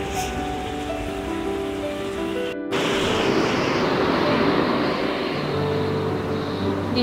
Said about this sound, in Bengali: বাইরে হালকা বৃষ্টি বৃষ্টি আছে